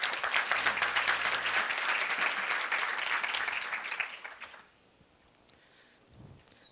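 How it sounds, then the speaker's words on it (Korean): Audience applause welcoming a company founder to the stage at a Korea University business school event: a steady wash of many hands clapping for about four seconds, then fading into a quiet hall. "박수로 맞아주시기 바랍니다"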